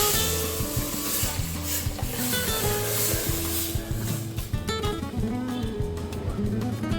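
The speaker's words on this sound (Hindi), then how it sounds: "कढ़ी को इस तरह से लगातार चलाते रहें, नहीं तो इसमें दही फटने का डर रहता है" Spoon or ladle stirred continuously through thick Punjabi kadhi of gram flour and yogurt in a pan, a close, steady rubbing and scraping with rhythmic strokes against the metal.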